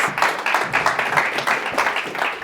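An audience at a hospitality industry panel event claps for a moderator coming on stage, a steady, fairly loud patter of hands with an uneven rhythm that carries on without pause.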